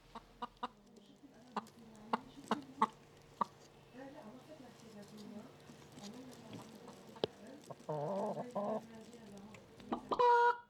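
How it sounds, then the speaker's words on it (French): Chickens in a Lebanese farm kitchen give sharp, scattered clucks and a brief burst of rapid cackling, fairly close, with a voice speaking quietly underneath. "Ici, les poules pondent sous l'évier."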